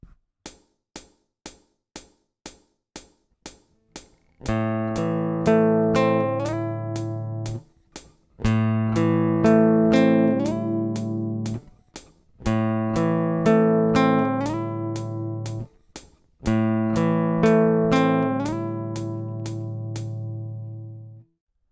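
A guitar picks out single notes in a steady, ticking rhythm, then plays four sustained phrases, each separated by a short pause.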